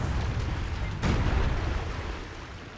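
Naval gunfire from ships in the futuristic strategy game Anno 2205: a dense, rumbling barrage with a heavy boom about a second in, followed by a sustained roar of distant explosions, no talking.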